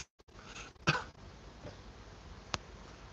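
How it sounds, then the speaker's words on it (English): A sick man with a persistent cough coughs once sharply near the mic, a rough burst followed later by a second short, clipped cough, with quiet room noise between. "A lot of them can't get rid of the cough."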